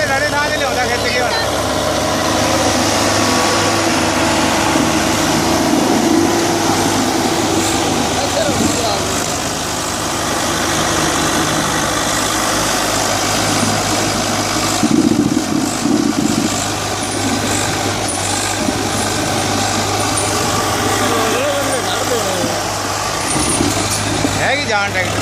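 A tractor idles in a farm field, its steady low engine rumble running throughout beneath loud talking voices.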